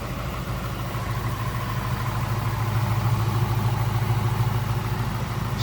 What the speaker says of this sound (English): Again, 5-liter, the V8.